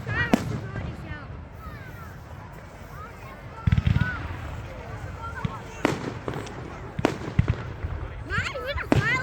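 Fireworks bang and crackle outdoors on Bonfire Night in Elgin, sharp irregular bursts with a heavier cluster mid-way, set against crowd noise while people talk nearby.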